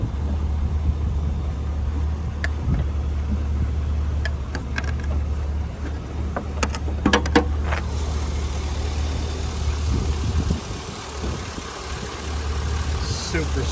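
A 2003 Chevrolet SSR engine with a new fuel pump idles under the open hood, a steady quiet low hum throughout with some light handling noises.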